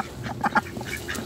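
Ducks being fed rice, a few close quacks and honks in quick succession over a soft background murmur.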